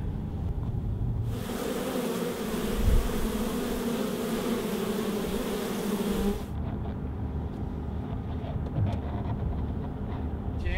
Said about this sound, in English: We've got a bunch of bees here we want you to have a look at